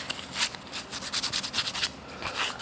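A maple wood plug on a 1953 Les Paul Standard guitar being trimmed down by hand, with a quick series of close, scratchy rubbing and rasping strokes in an uneven rhythm, no voices.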